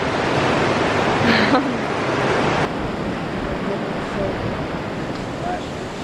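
A cold mountain creek fed by snowmelt rushes steadily nearby, a loud continuous broadband wash with wind buffeting the microphone and brief faint voices.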